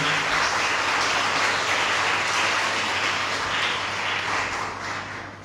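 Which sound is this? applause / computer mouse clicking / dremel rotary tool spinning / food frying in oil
applause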